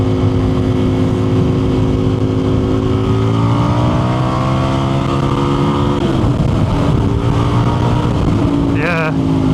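An Indian FTR 1200 motorcycle engine revs hard with no rev limiter, pitch climbing and holding steady before a quick blip near the end, loud and close throughout.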